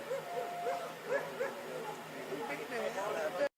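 A police dog yips and whimpers in short, high bursts at moderate loudness, mixed with background chatter, before cutting off abruptly.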